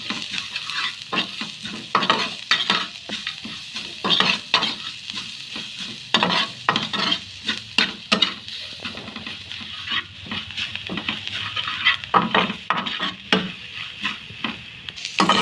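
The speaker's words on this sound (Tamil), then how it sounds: "இப்போ வந்து எல்லாத்தையும் மிக்ஸ் பண்ணி நல்லா வதக்குவோம்." Chili powder and salt mixture being stirred and sautéed in a pan for an egg roll filling, with a constant sizzle broken by repeated scraping strokes of a spoon, close and fairly loud, no talk.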